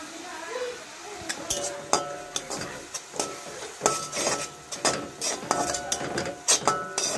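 A spoon scraping and clinking against a pan while tomato sauce is stirred into spiced pasta masala, giving irregular metallic taps and scrapes with a faint sizzle beneath.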